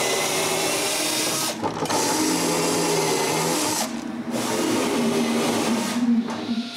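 An electric drill bores shelf pin holes into a wooden dresser, a loud steady whine running in three long bursts separated by brief pauses.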